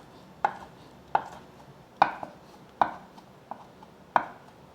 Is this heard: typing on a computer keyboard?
no